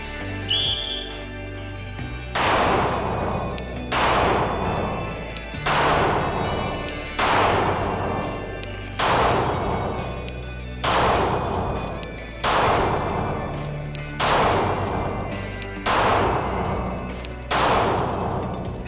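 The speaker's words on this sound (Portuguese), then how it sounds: "10 disparos." Pistol shots fire one at a time at a steady pace at a shooting range, from 5 metres, each a sharp loud crack with a short ringing tail, about ten in all.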